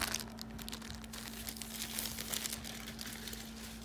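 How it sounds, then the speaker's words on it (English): Plastic wrapping peeled and torn off a new 17-inch early-2011 Apple MacBook Pro, a continuous close crinkling and crackling with sharper tearing bursts, over a low steady hum. "let's go ahead and pull this plastic off by breaking the seal"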